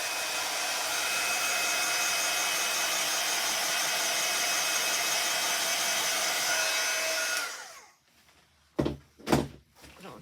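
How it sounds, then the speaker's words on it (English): A heat tool blows steadily and loudly to dry ink on a handmade card, then switches off, followed by a few soft knocks and clunks. "I'll just put a bit of heat on it,"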